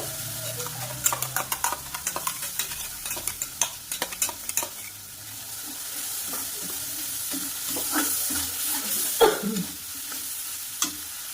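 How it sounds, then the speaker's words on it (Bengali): A spoon scrapes and clicks repeatedly against a pan while tomato spice paste sizzles and spits steadily in oil underneath, close and moderately quiet. "দিয়ে একটু ভালো করে নেড়ে দেবো"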